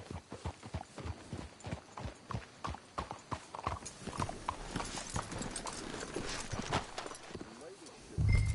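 Horse hooves clip-clop steadily in Red Dead Redemption 2 gameplay, a run of regular hoofbeats with an occasional whinny, heard alongside character speech and ambient game sound.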